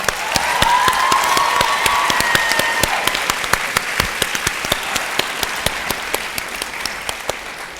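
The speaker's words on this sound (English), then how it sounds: "one last round of applause for Jan" A live theatre audience at a New York show breaks into loud, sustained applause, dense clapping close and full that slowly thins but keeps going, with faint cheers early on.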